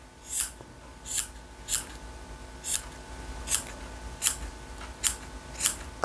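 Small scissors snip pipe cleaner fuzz on a handmade dog doll keychain, about nine crisp, close cuts at a steady, unhurried rhythm, each a short sharp snap over a quiet room.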